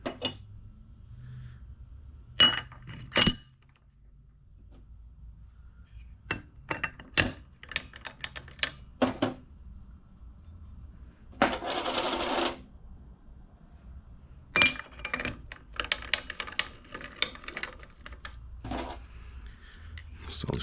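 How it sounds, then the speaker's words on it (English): Metal gears for a Vespa Rally 200 gearbox are stacked onto a shaft one at a time. They give sharp separate clinks and clacks with quiet gaps between them. "I'm gonna stack the gears in one at a time with the higher side facing up"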